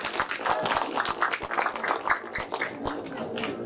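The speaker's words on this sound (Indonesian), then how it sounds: "Tepuk tangan dulu." Applause rises from an audience at an Indonesian community gathering on Pancasila ideology, a lively spread of clapping with sharp individual claps, moderately loud and fading slightly toward the end.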